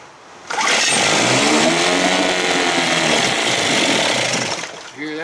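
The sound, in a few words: 1956 Evinrude 7.5 hp outboard motor running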